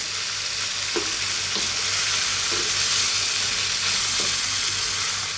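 Green onions are stirred into sizzling stir-fried pork and vegetables in a hot pan: a steady broadband fry hiss runs throughout, broken by four soft scraping stir strokes spaced about a second apart, close and unaccompanied by any voice.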